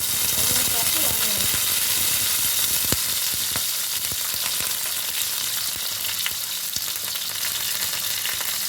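Tempering spices and dried red chilli pieces sizzle and crackle steadily in hot oil in a home kitchen while a Ridge gourd curry is cooked, with occasional stirring clicks over a continuous close hiss.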